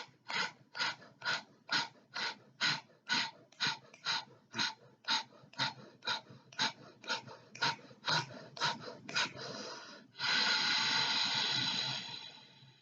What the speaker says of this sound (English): Full breath in